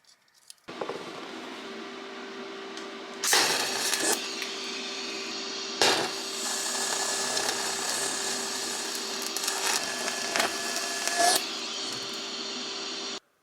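An arc welder works on a small magnetic iron piece smelted from sand, giving a steady buzzing hum broken by sharper crackling bursts as the arc starts and restarts. The sound is close and moderately loud, with no talk.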